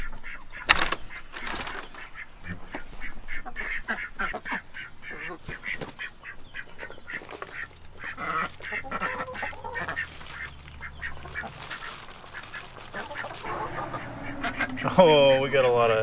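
Farm ducks quacking in short irregular bursts around a backyard coop, moderately close and mixed with scattered handling noises and some speech.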